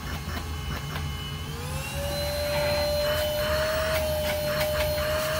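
A handheld stick vacuum cleaner runs steadily throughout, its motor whine rising in pitch partway through as it shifts to a higher speed, close and loud with no talk over it.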